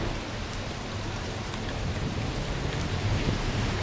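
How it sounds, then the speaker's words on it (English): Steady rain in St. Petersburg, Russia, hisses continuously, a dense even patter with no pauses and no voices. "It's raining in St. Petersburg."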